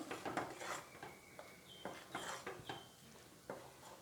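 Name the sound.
stirring mango pudding mixture in a pan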